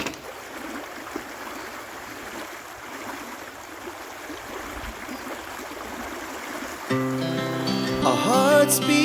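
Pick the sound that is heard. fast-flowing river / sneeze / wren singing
fast-flowing river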